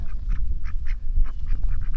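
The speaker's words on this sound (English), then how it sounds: "they are our hookbill ducks" Hookbill ducks quack close by in a rapid run of repeated nasal calls, several birds overlapping over a low rumbling background.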